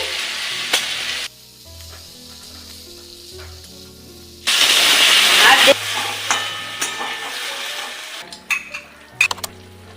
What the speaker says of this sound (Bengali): এবার আমি ভেজে রাখা ডুমোরগুলো দিয়ে একসাথে সব কষিয়ে নেব।